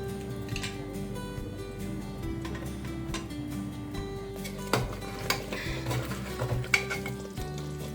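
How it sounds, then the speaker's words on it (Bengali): A utensil scrapes and clinks against a metal pressure cooker pot while chicken is stirred for biryani, with a soft sizzle underneath and several sharper knocks near the end. "চিকেনগুলো দিয়ে খুব সুন্দরভাবে নাড়াচাড়া করে চিকেনটা একটু রান্না করে নিচ্ছি"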